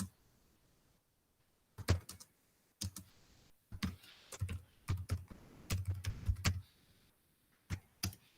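Typing on a computer keyboard during an online conference: bursts of quick key clicks separated by short pauses, near and fairly quiet, with no voices.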